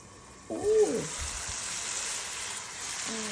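Spices fry in a pan for a shrimp curry, giving a steady, soft sizzling hiss throughout, with a brief louder clatter near the start.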